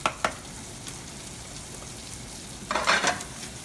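Shallots and garlic hitting a hot pan with mushrooms and onions, giving short sizzling bursts near the start and a louder, longer frying hiss toward the end over a low background.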